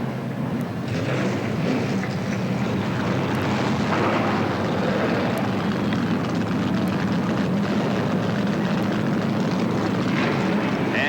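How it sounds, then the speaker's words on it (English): A full field of ARCA stock cars at the 1985 Pocono Invitational on the 2.5-mile tri-oval fires up together, a dense, steady roar of many engines holding loud and constant throughout with no talk. "Gentlemen, start your engines."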